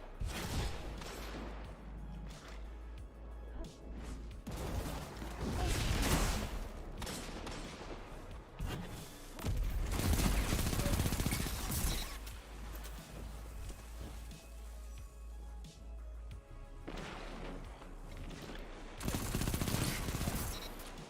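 Weapon fire in a video game: sustained rapid automatic bursts with short pauses between volleys, loud and close over a dense game soundscape.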